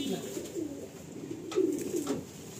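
A male Madrasi pigeon coos in low, rolling phrases close by, a couple of louder swells near the end, with faint background noise and no speech.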